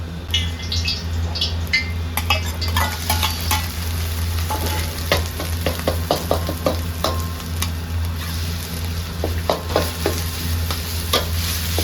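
Pork being stir-fried with southern Thai curry paste for khua kling, a steady near sizzle with repeated scraping and stirring clatter over a constant low hum, no talking.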